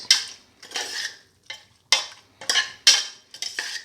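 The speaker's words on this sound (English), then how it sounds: "Thoroughly mix." Chicken neck and fenugreek leaves being mixed with spices: a spoon scrapes and taps against a bowl in a series of short, bright strokes with brief pauses between them, close and clear with no speech.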